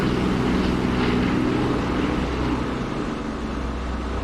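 Mosquito bomber engines droning steadily in a flight sim just after takeoff, a loud continuous propeller roar with a low throbbing hum that holds near-constant throughout, no voices.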